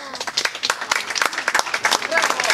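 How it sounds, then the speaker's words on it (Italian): Lively crowd applause at a street arts festival in Tortona, dense rapid clapping from many hands throughout, with voices calling out over it. "quindi magari tutti fanno un applauso a Giada."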